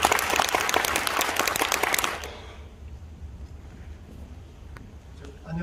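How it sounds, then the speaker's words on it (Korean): A Korean museum-policy seminar audience gives a burst of applause that stops abruptly about two seconds in, leaving a quiet room with faint murmuring and low background hum. "다시 한번 박수로 감사드립니다."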